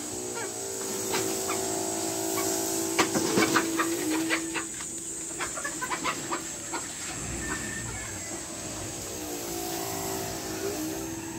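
Chickens cluck and chatter in scattered bursts over a steady background hum and hiss, with no talking.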